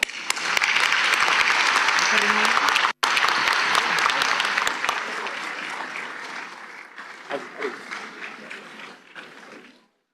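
A large conference audience applauds loudly and continuously during an award presentation, with a brief cut near the start. The clapping gradually thins and fades toward the end, and a voice is faintly heard beneath it.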